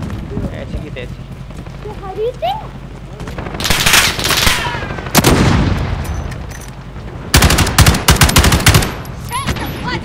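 Gunfire in Call of Duty Modern Warfare gameplay, loud automatic bursts in several clusters with bangs and explosions, mixed with game sounds and a voice talking over the action.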